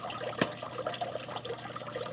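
Water running steadily in the background of a house where animals are kept, a soft continuous wash with a small splash or drip near the start, faint and distant with no voices.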